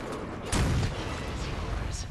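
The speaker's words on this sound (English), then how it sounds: "Who threw a grenade right there?" A grenade goes off in the multiplayer horror game Resident Evil Resistance: one sudden, heavy blast with a rumbling low end, followed by a short, noisy tail under ongoing game sound.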